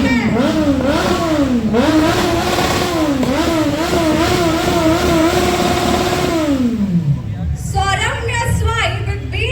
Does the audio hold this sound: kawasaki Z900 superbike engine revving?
yes